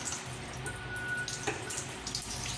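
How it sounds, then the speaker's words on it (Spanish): Water streams steadily from a broken, leaking faucet whose shutoff valve is blocked. The hiss of running water is continuous and moderately loud, with occasional splashes. "hay una fuga de agua"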